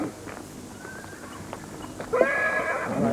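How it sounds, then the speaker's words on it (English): Horses normally used for pulling farm carts, here outfitted as war horses, give a loud whinny rising out of a steady outdoor background, with light hoof clip-clops scattered through the moment. "Usually these animals pull farm carts, but today they're war horses."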